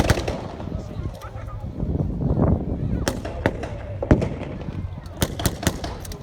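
Scattered gunfire at a WWII battle reenactment, with sharp irregular shots and bursts at varying distances over outdoor crowd noise and murmuring voices.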